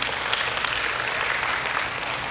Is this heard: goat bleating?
no